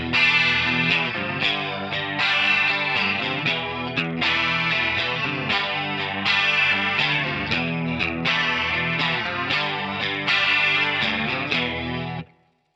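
A chorus-soaked, slightly distorted electric guitar strums power chords from a section of a song, rhythmic repeated hits alternating between two chords, loud and up front for about twelve seconds with no voices.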